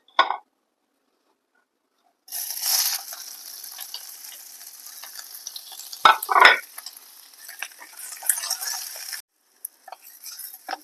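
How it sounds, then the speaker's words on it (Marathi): Onion and fresh grated coconut sizzle and crackle in hot oil in a kadhai, with a steady frying hiss broken by a few louder stirring scrapes and clinks, up close and with no talking. "आता कढईमध्ये पुन्हा तेल टाकून कांदा व ओलं खोबरं भाजून घ्या"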